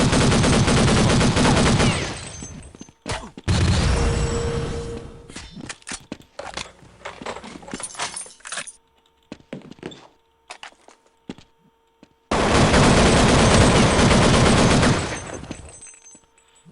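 Gunfire in the Roblox game Jailbreak comes as dense, loud bursts of rapid shots in two main volleys, with scattered single cracks and thuds in the quieter stretch between them.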